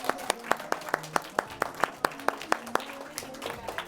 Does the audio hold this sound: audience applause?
yes